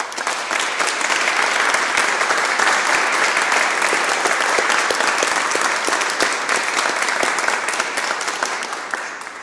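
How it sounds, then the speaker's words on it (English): An audience at an awards ceremony honouring Drexel authors and editors applauds, a dense, loud and steady wash of many hands clapping that is sustained throughout. "let us give another round of applause to all the Drexel authors and editors of 2013."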